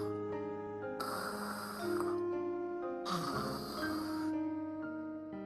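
A voice imitates a sleepy frog snoring in a Marathi children's story: two long, rasping snore swells rise and fall over a steady tonal background.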